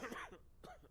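A patient coughs in the Quarantine Zone: The Last Check game, two quick, throaty coughs close to the listener, the second softer than the first, with a short pause between them.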